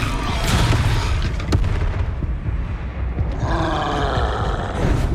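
Confringo fire spell blasts go off in Hogwarts Legacy combat, a steady barrage of loud, booming explosions with rumbling roar and a sharp crack near the middle.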